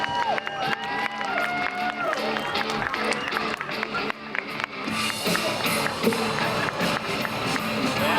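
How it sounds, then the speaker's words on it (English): Crowd at a BMX stunt show cheering and making noise, loud whoops and shouts mixed with voices, building into a fuller roar in the second half. "Make some noise for this guy."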